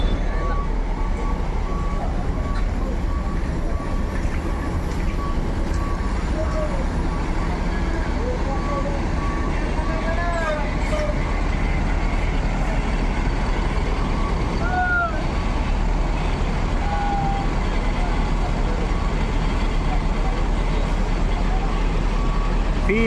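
A new Ambasador intercity bus departing from a depot in West Sumatra, with a steady engine rumble and traffic noise throughout, scattered beeps and squeaks, and a background of voices.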